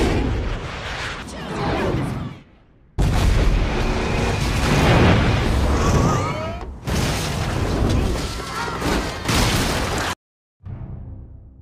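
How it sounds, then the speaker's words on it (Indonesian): Fighter jet bombs in an action film set off a series of heavy, roaring explosions, loud and rumbling in long bursts separated by brief silences. "sebelum terkena ledakan dari bom pesawat tempur"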